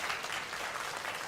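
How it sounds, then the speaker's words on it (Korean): A church congregation claps together during a Sunday worship service, with a dense, steady burst of applause filling the room for its whole length. "2부 예배 때는 박수를 치시네요."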